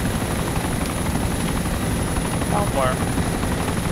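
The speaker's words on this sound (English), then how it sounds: "we'll land a helicopter to the right of us then." A helicopter in the video game DayZ comes in to land, its steady rotor thump and engine drone loud and constant throughout, while a player briefly speaks over it.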